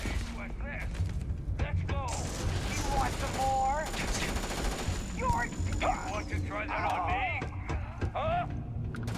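Rapid laser gun fire in the space game Starfield, a dense burst of repeated zapping shots with tonal sweeps over continuous rumble and combat noise, with someone talking over it.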